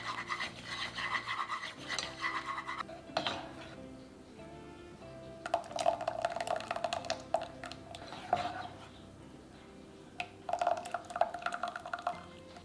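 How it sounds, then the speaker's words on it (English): A whisk works cornstarch slurry into a simmering chili sauce, giving soft scraping and rasping strokes in uneven bursts, close and quiet, with small liquid ticks between them. "Whisk until it is thickened."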